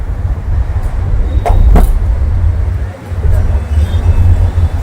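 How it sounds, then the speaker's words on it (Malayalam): City buses pass on a Mumbai street, a heavy low engine rumble and roadway noise with a couple of sharp clatters, steady and nearby as traffic rolls by. "ഇതാണ് മുംബൈ സിറ്റിയിലുള്ള ബസ്സുകൾ"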